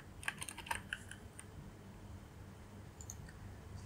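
Fingers tapping a computer keyboard while coding a JavaScript binary-to-decimal project, a short cluster of close, faint clicks at the start followed by near silence and a few scattered taps later.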